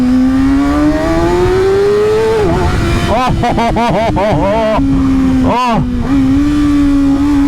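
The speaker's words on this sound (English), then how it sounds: "the Yoshi pipe sounds delicious, man." A 2019 Kawasaki Ninja ZX-6R with a Yoshimura exhaust revs inside a tunnel, a steady drone rising then broken by a rapid series of sharp blips, loud and echoing, with a brief exclamation from the rider.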